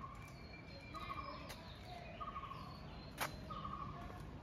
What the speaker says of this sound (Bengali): এটা আছে গোল্ডেন ফিজেন্ট